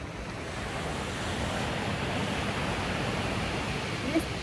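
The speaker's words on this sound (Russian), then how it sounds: "здесь всегда такие сумасшедшие волны" Stormy sea waves roll and crash on the shore, a continuous loud broadband roar with wind buffeting the microphone throughout.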